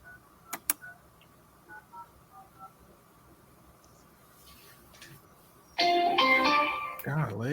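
Telephone dialing in a wholesaling call room, faint keypad tones and short beeps under low room noise, followed by a loud burst of voices near the end.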